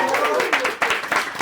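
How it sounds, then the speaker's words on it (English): A live podcast audience breaks into a round of applause, full and fairly loud with uneven bursts of clapping, while voices chatter and call out over the crowd. "I want everybody to give a round of applause so they know we do actually have an audience tonight"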